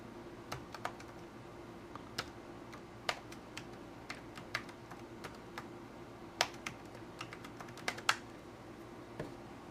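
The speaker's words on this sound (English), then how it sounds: "It's maddening, I know, to watch somebody typing" Typing on a computer keyboard in a quiet room gives a faint, irregular patter of soft key clicks with a few louder taps, steady for about ten seconds.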